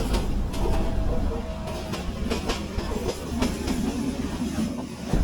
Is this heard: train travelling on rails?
yes